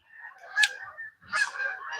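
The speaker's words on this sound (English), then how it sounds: "You're about to hear a lot of geese." Several migrating geese honk in overlapping calls while flying over, a busy chorus of nasal honks fairly close, with no one speaking.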